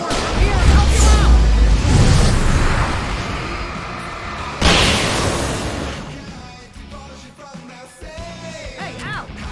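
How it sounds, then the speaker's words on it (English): Fireworks bursting in the Alan Wake video game, a barrage of loud booms and pops layered with rumbling rolls and shouting voices, dense at first and thinning toward the end. "I can set off some of the fireworks from here and help you out!"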